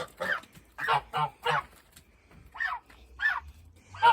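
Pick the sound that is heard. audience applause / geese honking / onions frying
geese honking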